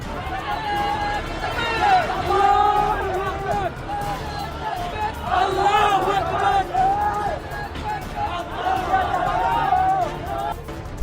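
Large crowd outside the Prothom Alo newspaper office in Dhaka chanting religious slogans, rhythmic massed voices rising and falling over loud babble and shouting.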